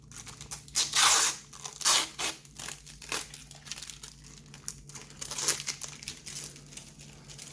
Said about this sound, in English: I know some of you really enjoy this peeling, this protective coat peeling.